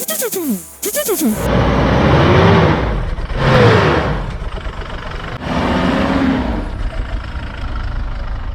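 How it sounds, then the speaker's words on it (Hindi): Toyota Fortuner SUV engine roaring during off-road driving, loud and close with repeated rev surges and a turbo whoosh rising and falling, while voices talk over it. "और अब मैं आप लोगों को सुनाता हूँ इस गाड़ी के इंजन का रोर और टर्बो नॉइस"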